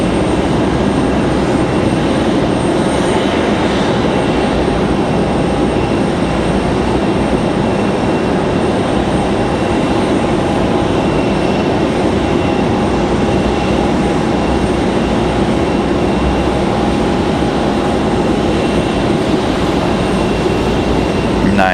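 A Southwest airliner arriving from Chicago at Raleigh-Durham airport produces a loud, steady broadband jet roar that holds for over twenty seconds with no speech.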